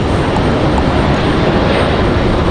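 An American Airlines Boeing 777-200 jet airliner roars loudly and steadily at Raleigh-Durham International Airport, a dense, continuous engine rush filling the short stretch without pause.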